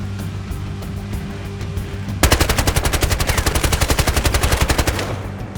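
Automatic gunfire in the video game Battlefield: Hardline, a rapid steady burst of loud shots lasting about three seconds, starting abruptly after a quieter stretch of low rumbling game ambience.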